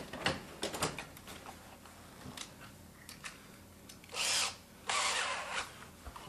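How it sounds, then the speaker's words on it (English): A small, worn-out power drill runs in short bursts while parts of a saddle kit are fastened, the longer whirring runs coming near the end with quiet clicks and handling noises between them. "I think my little drill's"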